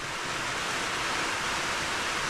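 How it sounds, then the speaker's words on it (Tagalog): Steady rain falls outside a small Suzuki Every Wagon camper van, a dense, even hiss that holds at a constant level with no voices. "Ulan yan."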